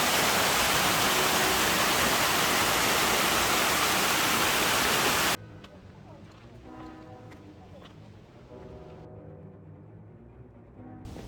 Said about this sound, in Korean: 이 폭포는 인공으로 조성된 것이지만 울창한 대나무 숲과 어우러져 운치를 더해줍니다.